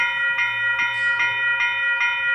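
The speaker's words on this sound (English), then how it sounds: "The train stopped over there" A six-carriage electric train passes a railway crossing on Sturges Road, with a steady mechanical hum, rhythmic wheel clicks over the rails and a high tonal whine, continuous and close.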